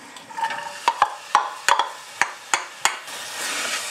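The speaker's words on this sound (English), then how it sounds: "into the butter, I'm going to add my chopped onions" Chopped onions hit melting butter in a pan, giving a soft sizzle broken by a run of sharp, close clatters as a utensil knocks and stirs them about eight times.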